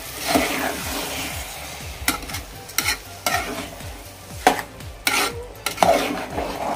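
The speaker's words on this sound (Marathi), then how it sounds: "आता आपण हे व्यवस्थित सर्व मिसळून घेऊया, मिक्स करून घेऊया।" Rice is stirred in a pot with bombil (Bombay duck) over steady frying sizzle, producing rhythmic scraping and clacking strokes of a spoon against the pot, close and fairly loud, with no talking.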